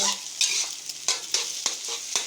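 Eggs sizzle loudly in a hot wok for a ridge gourd and egg stir-fry. A spatula scrapes through them in quick, uneven strokes, close and clear, with no talking.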